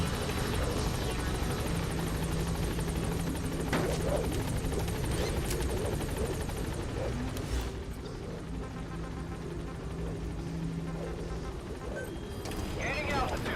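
The B-Quad helicopter from Metal Gear Solid V: The Phantom Pain arrives at a landing zone, a steady rotor drone with faint thumping under game sounds and radio chatter, fairly quiet and continuous.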